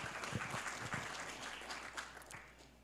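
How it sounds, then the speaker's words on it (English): Scattered applause from an audience at an Albuquerque mayoral candidate forum, fairly faint and thin, with a few sharper claps early that taper off over about three seconds. "Common Cause, you can go ahead and clap"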